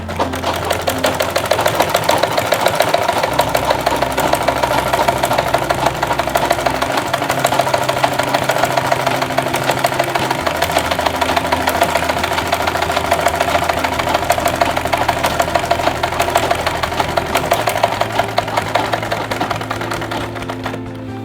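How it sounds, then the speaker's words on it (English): A sewing machine stitches round a fabric lunch bag with a fast, continuous mechanical clatter that stays loud and even, with the motor hum rising and falling slightly as the pace changes, and no voices. "I'm going to sew it round. Everything I'm sewing it round."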